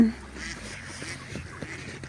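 A few scattered duck quacks at moderate distance over faint background noise, short nasal calls spaced irregularly, as ducks are fed bread.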